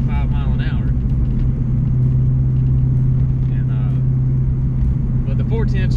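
Ford Mustang SN95 engine droning steadily while the car drives at highway speed in a long gear, a loud low rumble that continues under someone talking throughout.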